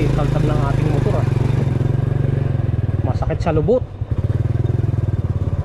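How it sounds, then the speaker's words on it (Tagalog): A motorcycle rumbles and rattles steadily over a rough road, its engine close and loud, while a rider talks over the constant clatter. "Grabe kaltag ng ating motor"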